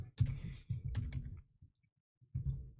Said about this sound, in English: Oops, we're just gonna type it here.